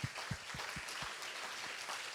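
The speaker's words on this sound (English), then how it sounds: "I would like to ask for a round of applause for the local organizing committee." Applause from the audience at a conservation students' conference opening session, a soft, fairly distant patter of clapping with a few louder claps at the start.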